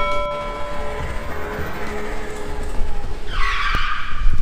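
A Zero 10X electric scooter skids to a stop, a loud close scraping screech of tyres rising sharply near the end over steady motor and wind noise.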